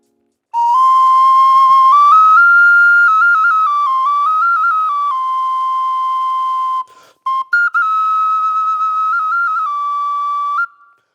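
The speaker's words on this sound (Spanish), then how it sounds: "Esta flauta es de aquí del Valle de Toluca, la flauta Matlatzinca, la Nipipi." A Matlatzinca nipipi flute from the Toluca Valley plays a loud, clear, breathy melody of sustained tones that step up and down, with a brief pause before the tune resumes and ends.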